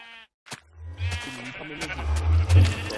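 A short Minecraft sheep bleat opens, then further bleating sounds under speech that rises and falls through the rest.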